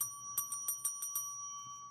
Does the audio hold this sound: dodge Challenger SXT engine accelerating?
no